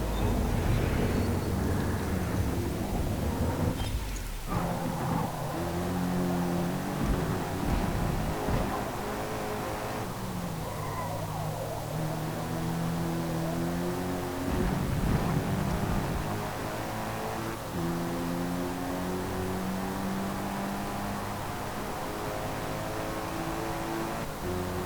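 A sedan engine races in Forza Motorsport, droning loud and steady throughout, its pitch climbing and falling as it accelerates and shifts through the gears.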